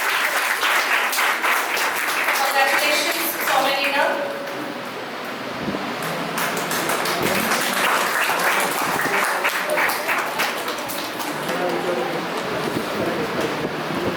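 A school audience claps for a student topper at an Independence Day function, steady crowd applause running throughout, with a voice briefly speaking over it.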